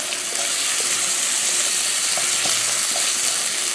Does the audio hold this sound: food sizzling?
yes